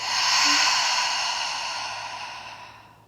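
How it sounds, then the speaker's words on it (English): A single slow, deep breath drawn in and let out during a hip-focused exercise class, a soft airy hiss that swells early and gradually fades over about three seconds, close and alone with no talking. "Take a full breath in. Full breath out."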